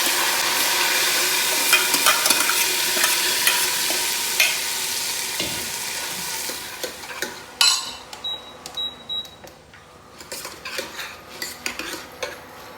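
Washed rice and dal hit hot oil with cumin in a pressure cooker for khichdi, a loud sizzle that fades as metal clinks and scrapes of a spoon knock against the pot.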